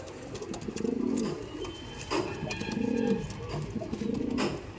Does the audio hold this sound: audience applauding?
no